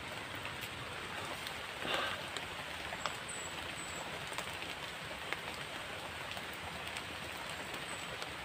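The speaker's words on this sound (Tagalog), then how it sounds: "Ulan." Steady rain pattering on a surface, a constant soft hiss with occasional louder drops, no voices.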